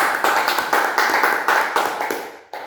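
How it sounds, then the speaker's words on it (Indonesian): A classroom of students claps for a group, with rhythmic, fairly loud applause in even pulses that stops abruptly near the end. "Yuk kita beri aplaus untuk kelompok Fatimah."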